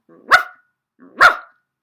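A person imitating a dog, giving two loud, sharp barks about a second apart, close by and alone with silence between them.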